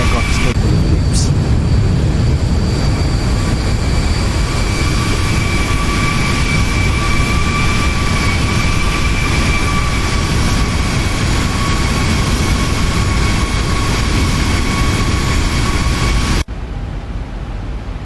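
Steady roar of Boeing 737 jet engines in X-Plane 11, a broad low rumble with a whining tonal hum layered on top, holding constant before cutting to a quieter, muffled drone near the end.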